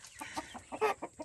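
Highline and Dominicker cross chickens on a Kentucky farm cluck in a quick series of short, close, moderately quiet calls, about seven clucks in just over a second, with no talk.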